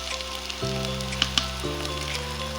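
Dried pomfret (rupchanda shutki) fries with chili powder, coriander and salt in a pan, giving a steady close sizzle under a continuous background hum, with a couple of faint clicks.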